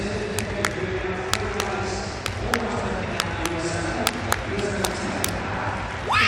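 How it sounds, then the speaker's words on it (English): An indoor arena crowd claps in steady rhythm for a triple jumper at a world indoor athletics championship, sharp repeated claps ringing out beneath continuous commentary. "You can see the crowd responding there to her calls for a clap."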